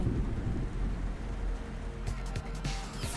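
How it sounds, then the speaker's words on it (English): Steady heavy rain pours throughout a thunderstorm in the animated show Meta Runner, with a deep rumble underneath and a sharp crackling thunder crash breaking in near the end. "There's a storm coming."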